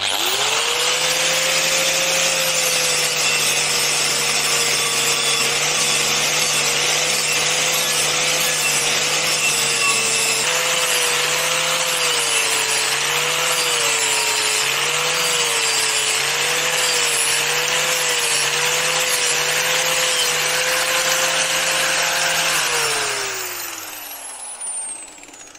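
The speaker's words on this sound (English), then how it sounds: "So now I'll flap disc it smoother on the vise." A power grinder with a flap disc smoothing cut metal held in a vise, a loud steady whine that holds for over twenty seconds with slight pitch wobbles as pressure changes, then spins down at the end.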